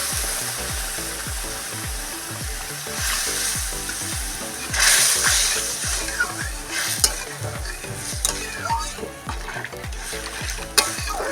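Water poured onto a cooked, fried spice paste for a stuffed pointed gourd (potoler dolma) curry sizzles loudly with a rhythmic, rapid ticking and scraping of a spoon stirring in the pan. A brief louder hiss surges partway through.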